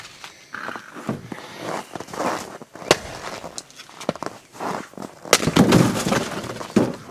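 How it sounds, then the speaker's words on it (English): An axe or maul splits firewood outdoors at a rustic log cabin, a series of sharp cracking impacts and splintering snaps spread irregularly across several seconds, mixed with shuffling steps and wood clattering down. "And that is how you split firewood."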